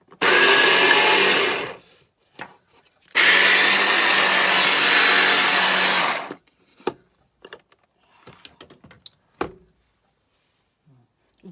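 A mixer grinder whirs loudly in two bursts of about two and three seconds while grinding Sri Lankan coconut sambol of coconut, onion, curry leaves, salt and lime juice, followed by quieter clinks and handling sounds.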